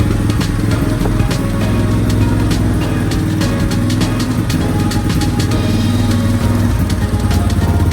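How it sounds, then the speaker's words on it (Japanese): An ATV engine, just started, runs steadily and loudly, a continuous rough idle with a rattling, buzzing tone and no speech. "エンジン始動しました。"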